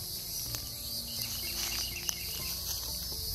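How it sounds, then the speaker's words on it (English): Cicadas on Bald Head Island hum and drone in a continuous high-pitched wall of sound, faint but unbroken, with a few soft taps and rustles close by. "even over the hum and drone of the cicadas"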